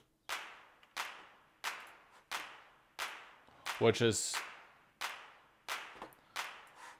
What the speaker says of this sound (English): And then there's a clap